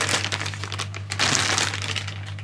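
A WH Smith plastic record bag crinkles and crackles continuously close to the microphone, with denser bursts of rustling around the middle, over a steady low electrical hum.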